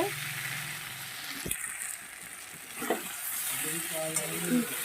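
Tomato masala with ginger, cumin and chili sizzles softly in a pan, with a spoon scraping and stirring every second or two against the steady low frying hiss.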